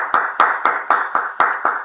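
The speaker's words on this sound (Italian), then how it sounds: "Ora il pubblico ti sta applaudendo." Sparse, evenly spaced claps, about eight of them, ring out close and bright in a steady rhythm, like a single pair of hands or a small audience applauding, with nothing else heard.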